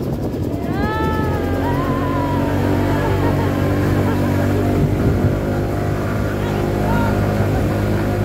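A Lance 150 motorcycle engine drones steadily and loud as it climbs an uphill road, its pitch rising and wavering over continuous road noise.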